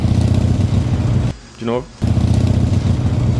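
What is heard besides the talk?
motorcycle engine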